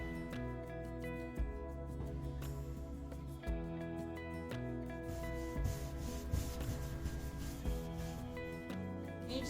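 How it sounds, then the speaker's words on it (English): Small brush working dark wax onto a thrifted Ikea furniture piece, soft repeated rubbing and scrubbing strokes, faint and close beneath a steady tonal musical background. "So I'm taking my smaller brush here, and I've got my dark wax."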